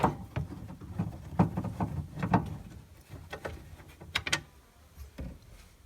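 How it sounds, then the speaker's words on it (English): Screws being removed from a speaker panel on a 1989 Ford Probe GT, heard as close ratcheting and clicking of a hand tool with small taps and rattles, fairly quiet and irregular. "So we got a whole bunch of screws to take out"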